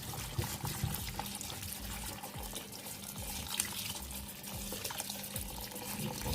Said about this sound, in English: washing them off in a bowl first